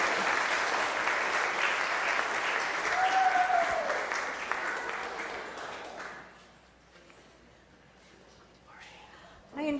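A congregation at a Unitarian Universalist church service applauds warmly for several seconds, then the clapping dies away into a quiet room with faint rustling.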